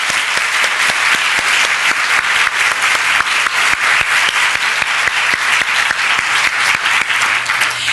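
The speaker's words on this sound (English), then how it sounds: "Give them a big round of applause." Audience applause for a panel at a United Way women's leadership luncheon fills the room, steady, close, many hands clapping without a break.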